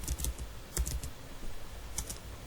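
A password being typed on a computer keyboard, a few short clusters of soft key taps separated by pauses, close and quiet with no talk.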